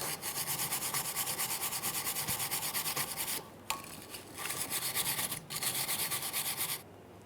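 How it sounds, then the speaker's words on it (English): Wire brush scrubbing the wheel bearing hub mating surface on a 2009-2014 Nissan Maxima, rapid rhythmic rasping strokes that are close and steady, with two brief pauses partway through. "Use a wire brush if necessary."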